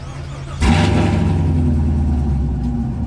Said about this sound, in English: Let me turn on the car so you guys can see that.